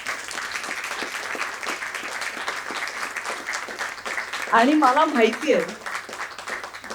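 An audience claps for honoured families at a Marathi book event. The applause is steady and sustained, and a voice begins speaking over it near the end.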